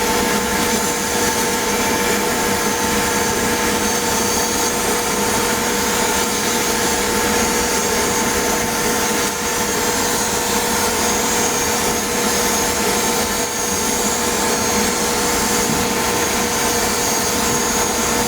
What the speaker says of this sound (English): test real quick here the noise coming from the vacuum